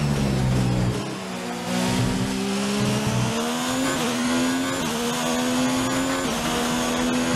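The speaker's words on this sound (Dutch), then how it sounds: "En de Ferrari motor doet hier dus gewoon zijn ding." Ferrari V6 hybrid engine of a Formula 1 car at full throttle during qualifying at the Russian circuit in the F1 2019 racing game, a loud continuous high-pitched scream rising through gears with short upshift dips, DRS open.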